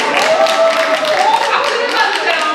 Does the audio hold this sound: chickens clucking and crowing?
no